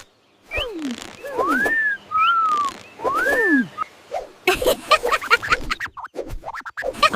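Several rising and falling whistled notes come in short phrases, then give way to scratchy, rustling noises.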